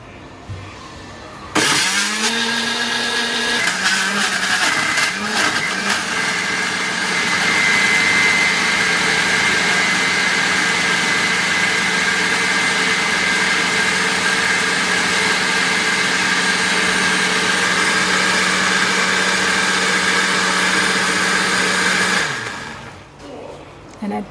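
A blender whirs a mango smoothie, starting abruptly, spinning up with a rising pitch, then holding a loud, steady roar for about twenty seconds before winding down and stopping.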